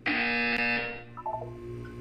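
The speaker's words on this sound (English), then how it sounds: "You will hear a buzzer." A loud electronic buzzer in the video game Portal 2 blares for about a second, then trails into a few softer tonal game beeps over a low hum.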